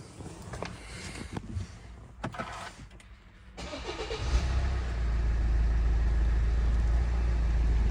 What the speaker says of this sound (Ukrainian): Заведемо автомобіль.